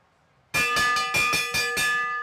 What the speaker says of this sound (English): They're going to hear the bell at the line.